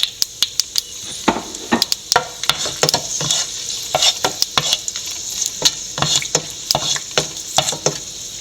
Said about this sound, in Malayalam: ഉണക്കമുളക് ഇട്ട് കൊടുക്കാം.